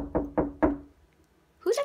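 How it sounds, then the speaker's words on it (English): Three sharp, evenly spaced knocks on a door, close and distinct, then a short silence before a voice speaks. "Why is there no one at the door, but they just knocked?"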